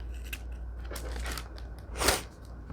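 Scissors snip through paper while a junk journal page with glassine bags is being made, a few quick close cuts with a crisp burst near the end over a low background hum.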